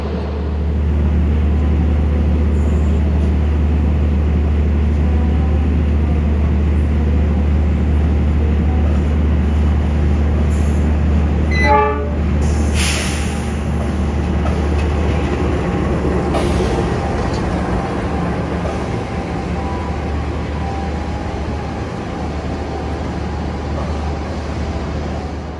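The Ranggajati passenger train rumbles steadily arriving at Madiun station, low continuous rolling noise with a brief metallic squeal and clunks midway, no talking.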